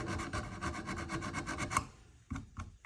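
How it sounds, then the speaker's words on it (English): A metal file rasps along the reed channel of a homemade jaw harp held in soft wooden clamps, with fast, even close strokes that stop, followed by a couple of short scrapes. "I have filed out the reed channel"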